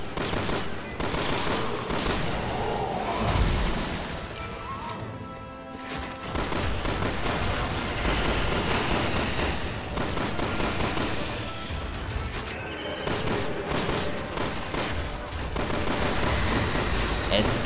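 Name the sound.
gunfire from Resident Evil 6 video game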